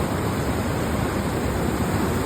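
A strong river current rushes at Tinipak, a loud, constant roar of water that fills the whole short stretch without pause, close and with no voices over it.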